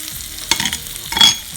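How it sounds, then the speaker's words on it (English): Butter melting and sizzling in a pan before potato fritter balls go in, a steady close frying hiss with a couple of brief scraping stir sounds. "Butter is getting melted"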